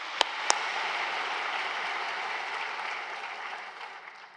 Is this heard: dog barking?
no